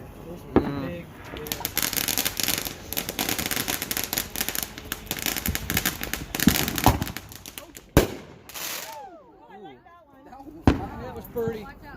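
Mortar fireworks fire double shots in a rapid, dense series of sharp booms and crackling bursts, then louder isolated reports with whistling tails, while people talk and shout nearby.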